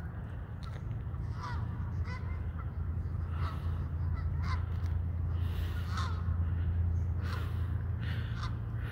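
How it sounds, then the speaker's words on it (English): Canada geese honk repeatedly across a park playing field, harsh nasal calls in scattered bursts from several birds, moderately distant over a steady low background hum. "The field is full of Canadian goose."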